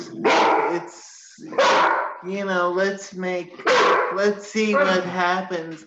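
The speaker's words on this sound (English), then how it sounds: "That is an American Bulldog." An American Bulldog barks in several loud, close bursts, its barks alternating with people talking nearby.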